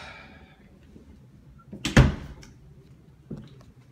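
A coat closet door in a house opens with a single knock and rattle in the middle, followed by a softer bump, in an otherwise quiet room.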